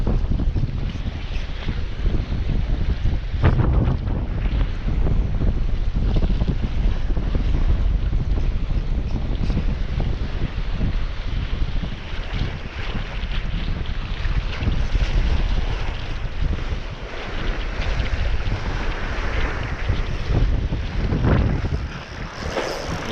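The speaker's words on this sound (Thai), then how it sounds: "ตึง ลมตึงตึง" Strong wind buffets a small boat at sea off Koh Kham Yai island in Thailand, a loud, steady roaring gust against the microphone mixed with the wash of water and waves, continuous and close for the whole stretch.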